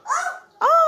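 A dog barks twice in quick succession, close by, two short harmonic yelps with a brief pause between them.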